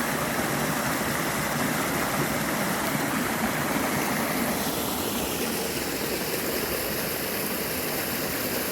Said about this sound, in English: Water's been running off here for a very long time.